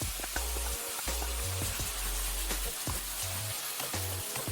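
Onions frying with pork in a pan for triple pork jajangmyeon, a loud close sizzle with a steady low hum and intermittent stirring clatter over a few seconds.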